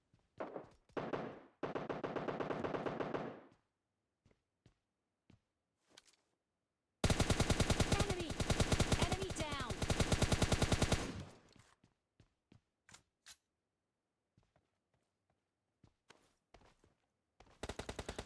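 Gunfire in the mobile battle game PUBG Mobile Lite: long bursts of rapid automatic fire alternate with scattered single shots and thuds, loud and close, with quiet gaps between and no voices.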